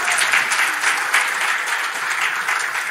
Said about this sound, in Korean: 박수 한번 쳐드리세요.